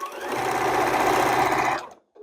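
A sewing machine runs steadily, stitching quilt block pieces together for a sage block, a close continuous mechanical whir lasting almost two seconds before stopping abruptly, with a faint brief sound after.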